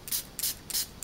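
A two-in-one oil bottle sprayer spraying oil, three short hissing bursts in an even rhythm, close and fairly quiet, with no voices.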